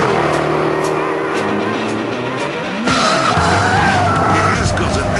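Jaguar XKR engine roaring loudly with a deep, rough note, rising in pitch and surging harder near the three-second mark, with tyre noise suggesting skidding and voices faintly beneath.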